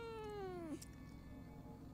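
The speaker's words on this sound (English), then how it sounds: "It was a cat." A cat in the video game Fears to Fathom gives one clear, close meow that slides downward and cuts off abruptly, followed by a quiet low hum.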